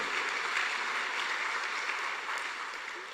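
Congregation applauding during a Catholic Mass at Parroquia Santa María in Asunción, a steady, dense wash of many hands clapping in a reverberant church that holds evenly, then eases slightly toward the end.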